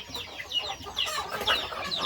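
A mother hen with her young chicks on a family farm, clucking softly while high peeping chirps repeat over and under it, fairly close, no speech.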